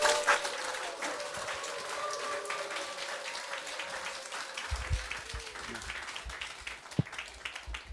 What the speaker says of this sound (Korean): 뜨겁게 박수로 환영합니다.